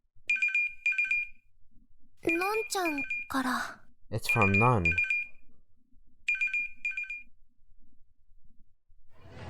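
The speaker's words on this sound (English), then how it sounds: "Oh, my phone's ringing." A Chaos;Child video game phone ringtone chirps in short repeated electronic bursts, loud and near, with pauses between rings as voices talk over the middle stretch.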